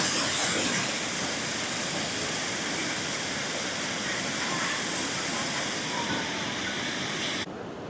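Water from a large lake overflowing into the Kaundinya river, a dense continuous rushing roar close by that holds steady, then drops sharply at the very end.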